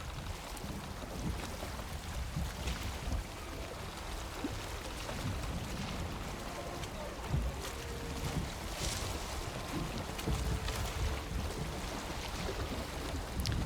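A boat under sail in Valheim, heading toward a small harbour, gives off a continuous soft rush of wind and water, fairly quiet and even, with occasional splashing swells and no voices.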